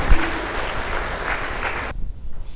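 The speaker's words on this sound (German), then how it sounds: "Applaus dafür, wunderbar." At a choir's 30th anniversary ball, the audience claps loudly for founding members in a dense burst that cuts off abruptly near the end, followed by a few scattered sounds.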